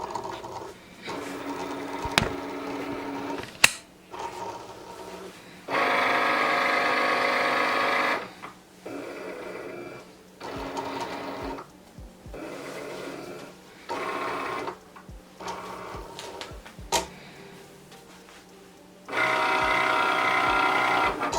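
A Cricut cutting machine scans a print-then-cut sheet, giving off a steady mechanical whirring in repeated passes broken by short clicks and pauses, heard up close with no talk.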